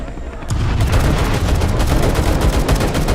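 Sustained heavy gunfire rages in a Vietnam War battle in Call To Arms, set at Ia Drang Valley, beginning abruptly after a brief lull and continuing as dense, rapid, loud bursts of automatic weapons and explosions.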